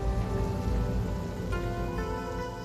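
Steady rain falling in a city with stalled traffic, a dense, continuous hiss and patter heard close and fairly loud with no voices over it.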